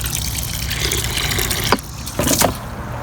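Water trickles and splashes into the tub of a compact 110V countertop washing machine, a steady close filling rush with a couple of louder gushes near the end and no voices.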